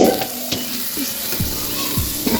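Chicken batchoy ingredients stir-fried in a pan with oyster sauce, a steady close sizzle broken by several scraping strokes of a utensil against the pan.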